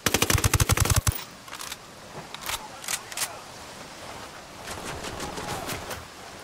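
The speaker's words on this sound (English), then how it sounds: "Taking fire from the camp entrance." Gunfire in the Ghost Recon Wildlands video game: a rapid automatic burst opens the clip, followed by scattered single shots and short volleys at a moderate, somewhat distant level.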